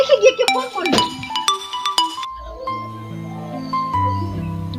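A phone rings indoors, a bright repeating electronic tone pattern that sustains for a few seconds, fairly close and clear, amid a short burst of background music and clinking.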